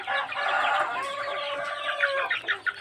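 Free-range village chickens eat a mixed feed, clucking busily at close range, with overlapping calls and a rooster's crow rising from the flock.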